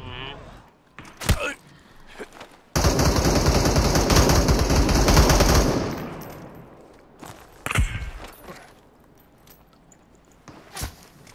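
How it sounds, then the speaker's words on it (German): Gunfire in the shooter game Super People, with scattered single shots and then a loud, sustained automatic burst lasting about three seconds. More isolated shots follow, and a voice talks over parts of it. "Die schießen auf dich."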